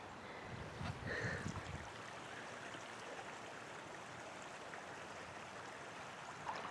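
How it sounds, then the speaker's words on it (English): A creek running high the day after a flood gives a steady, soft broadband rush of water heard from a short distance, with a brief louder swell near the start and no voices. "I'm going to go down and see what this creek looks like."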